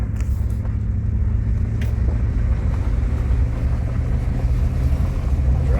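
A car rolls along a loose gravel back road in a Pennsylvania forest, a continuous loud, close engine and tire rumble with no voices.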